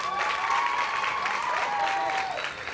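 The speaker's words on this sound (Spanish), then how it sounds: "Doctor, un placer tenerlo acá en vivo el sábado con el aplauso." Studio audience applauding on a live Saturday TV program, a dense steady wash of clapping throughout with a faint held tone running beneath it.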